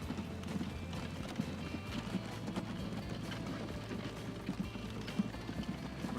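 Horse carts hauling stone in the Transport Fever video game, set in 1888-89 Europe, give a steady clip-clop of hooves under a continuous low rumble of game ambience, with no talk.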